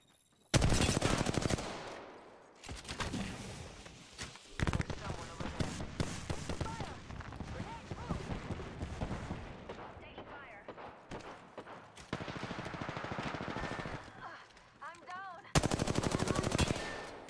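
Rapid bursts of automatic gunfire from the Apex Legends battle royale game, several loud sustained volleys separated by short gaps, with voices talking over parts of the fighting.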